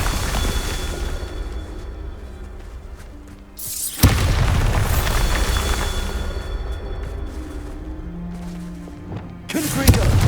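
A Bombarda blasting spell explodes in Hogwarts Legacy, letting out a loud, deep boom that rumbles on for several seconds. A second blast follows near the end, over constant game ambience.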